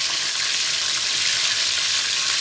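Fried chicken in Jollibee style crackles and sizzles steadily in hot oil, a dense, continuous hiss that stays close and loud throughout with no talking.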